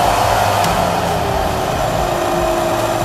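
A JYE hands-free hair dryer blows steadily on its cool setting, a loud continuous fan whoosh with a constant motor hum and no other sounds.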